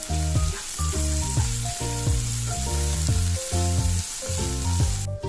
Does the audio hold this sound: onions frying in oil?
yes